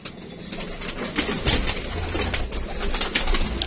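Pigeons cooing steadily in low, soft repeated calls, with a busy background of flock noise and rustling throughout.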